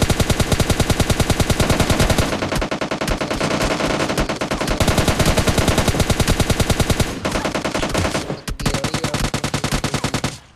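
Long, relentless bursts of rapid automatic gunfire in PUBG Mobile Lite fill the whole stretch, with only brief breaks between volleys.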